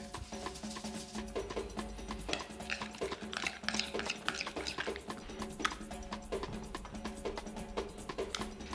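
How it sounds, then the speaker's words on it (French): Hands massage meat coated in an olive oil and herb marinade for a homemade kebab spit, giving a steady run of wet squishing, sticky slaps and soft clicks, close and continuous with faint kitchen clatter behind. "on va masser délicatement la viande pour bien l'enrober de marinade"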